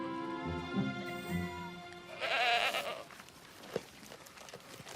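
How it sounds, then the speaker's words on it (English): Goats bleat several times in quick, wavering calls, fairly close, followed by a louder burst of noise and a short sharp knock. "Angel and Marshall will be let off leash with the goats for the first time since the chasing mishap"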